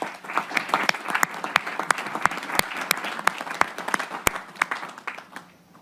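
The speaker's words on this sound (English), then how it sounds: "Let's give them a round of applause." Audience applause in a United Nations summit chamber, steady dense clapping with sharp individual claps standing out, lasting several seconds before tapering off toward the end.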